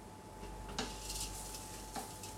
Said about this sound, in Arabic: نحرك منيح منيح، نفس الوقت بنحضر مي سخنة